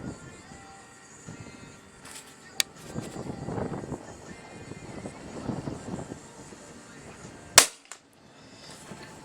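Hatsan BT65 .357 Carnivore tuned air rifle fires a single loud, sharp crack late in the clip, preceded by a smaller click and low handling rustle.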